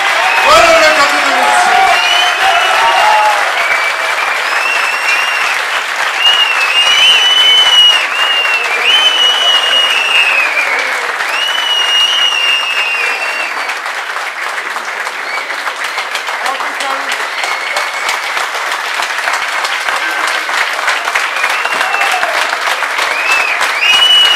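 Sustained audience applause at a Turkish wedding, dense and loud, filling the whole stretch with a few brief whoops and voices rising above the clapping.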